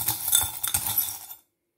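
Small metal charms clink and jingle against each other as they are drawn for a love-reading guidance, a close, bright scatter of tinkling hits lasting about a second and a half, then silence.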